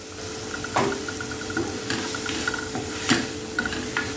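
Spices being stirred into poha with soya granules in a frying pan, a soft crackling sizzle under repeated scraping and clacking strokes of a spoon against the pan, close and without talk.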